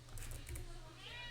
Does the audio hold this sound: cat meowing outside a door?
yes